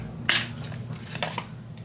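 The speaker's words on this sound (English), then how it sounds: "I'm gonna line this up and cut right in the middle" Scissors snipping through paper for a handmade mini scrapbook album: one crisp, close cut followed by a second quieter snip, with little else around it.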